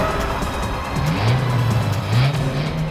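A car drives and turns on a road, a steady engine hum with a rising whine and faint tire squeal as it swings around, loud and close with no talk over it.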